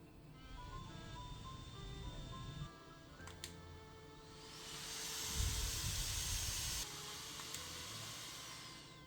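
Quiet cooling fan of a gaming handheld console running a demanding AAA game, a steady soft whirring hiss with faint whining tones, swelling somewhat louder partway through before settling back.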